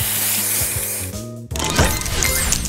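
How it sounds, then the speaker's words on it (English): Spray booster effect from the Match Masters puzzle game: a brief musical jingle cuts off, then a loud hissing spray burst with sparkling chimes follows, with no talk. "Spray this!"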